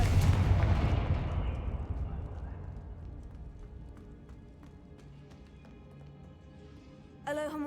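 A Confringo blasting spell in a Harry Potter video game bursts as a loud, booming explosion right at the start, then rumbles and fades over several seconds before a short sharp sound near the end.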